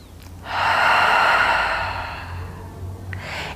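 A deep preparatory breath taken during a Pilates workout for the legs and glutes: one long, airy rush of breath that swells, then slowly fades over about three seconds, close to the microphone with no talking.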